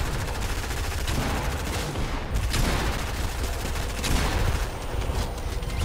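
Loud, continuous barrage of gunshots and shotgun blasts in the Fortnite video game, a heavy wall of firing with sharp louder reports standing out from the din throughout.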